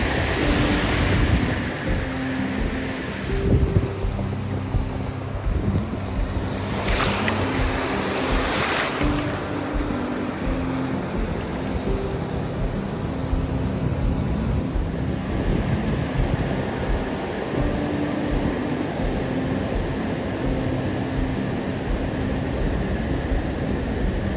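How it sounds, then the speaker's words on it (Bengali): Sea waves at Mandarmani beach rushing in and flooding a beachside shack, a loud continuous roar of surf with wind buffeting the microphone and several swelling crashes, no voices. "জাস্ট দেখুন সমুদ্রটা কোথায় এসেছে, এই শ্যাকের মধ্যে জল ঢুকে গেল"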